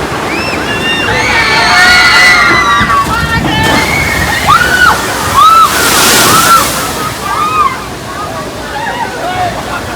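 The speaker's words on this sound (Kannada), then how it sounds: "ನೀರು ಹೊಡೆಯುತ್ತೆ." Water pouring and splashing down at a children's water park in Costa Rica, a loud continuous slosh with surges, under excited children's shrieks and crowd chatter.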